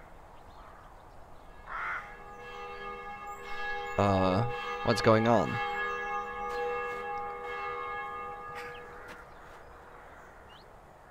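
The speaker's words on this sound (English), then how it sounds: "If the vicar is not here, then who the fuck is ringing the bells?" Church bells ring in the video game The Black Mirror, a sustained, resonant toll that lingers for several seconds while someone speaks briefly over it.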